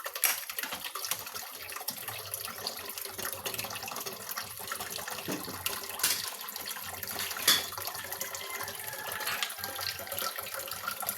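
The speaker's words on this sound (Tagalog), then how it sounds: "Hugasan sa nato ni plato, guys, kay ang atong agas, guys, hinay na dyan." Plates are washed under a running tap, with a steady quiet hiss of flowing water and occasional soft splashes and clinks, fairly distant and low in level.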